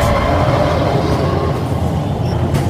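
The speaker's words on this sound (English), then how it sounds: "Train slowing." A train in the game Crysis Warhead slows down with a loud, steady rolling rumble and broadband rail noise, close and continuous, with a faint high squeal near the end.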